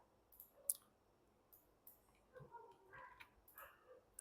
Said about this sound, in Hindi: अभी नेक्स्ट पे क्लिक करते हैं